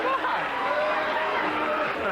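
A studio audience on a 1992 late-night talk show boos, giving a continuous dense crowd roar for a couple of seconds, loud and steady, with no clear single voice.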